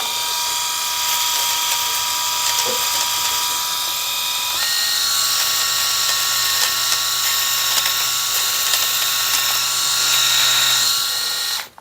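A VYLTO 7D electric shaver's steady high-pitched motor buzzes continuously while shaving a thick beard, shifting tone partway through as it works, with no talking.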